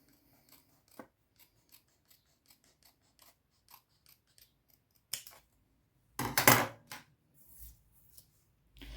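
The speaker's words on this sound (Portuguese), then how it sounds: "E aí, com a tesoura, você vai recortar." Scissors snipping through a paper sewing pattern, a string of soft crisp snips at first, then louder rasping cuts near the end, close and alone.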